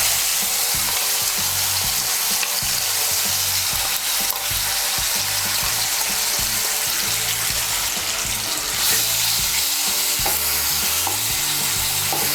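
Pointed gourd seed paste sizzles and fries in hot oil in a pan, with steady loud crackling and the scrape of stirring running throughout, close up and without voices.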